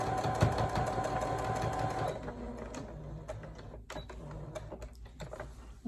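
A sewing machine stitches back and forth across jeans, a steady loud mechanical whirr that runs the whole time, with short pauses and restarts as the stitching direction changes.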